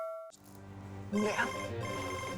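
A telephone rings briefly at the start, then a burst of noise and voices talking follow.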